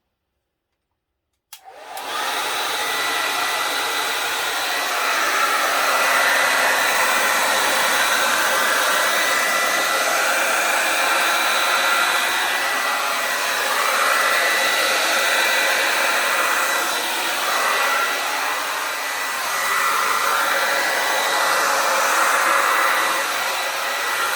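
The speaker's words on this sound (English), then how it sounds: "Hair dryer is set on cool and high." A hair dryer on the cool, high setting switches on abruptly and blows steadily, a loud continuous whooshing roar with no voices.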